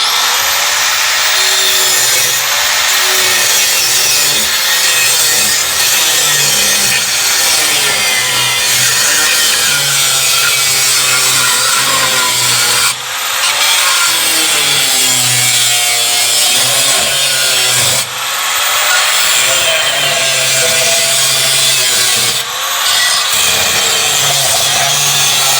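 A flap disc on an angle grinder works over rusted car body metal under the battery box, giving a loud, continuous harsh grinding roar close by with periodic dips as the disc shifts across the surface.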